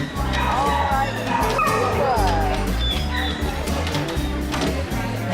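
Many dogs at a rescue shelter for flood-zone animals bark, yip and whimper together in a dense, loud, continuous chorus, with a steady low drone underneath throughout.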